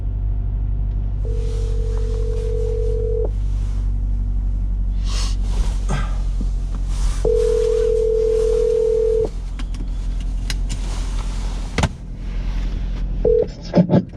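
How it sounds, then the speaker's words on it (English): Telephone tones while placing a call, with steady sustained tone bursts separated by pauses and a low rumble underneath, close and fairly loud, ending in a few short clicks. "Call Chael Sonnen"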